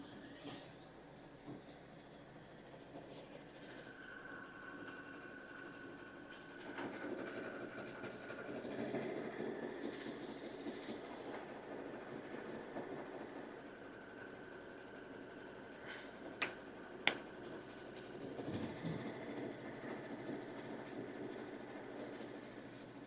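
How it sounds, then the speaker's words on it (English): An embroidery sewing machine runs a positioning stitch for red fabric appliqué, a steady mechanical hum and rapid needle rattle lasting throughout at moderate level, with faint room noise and no speech. "So I'm going to go ahead and start with the positioning stitch."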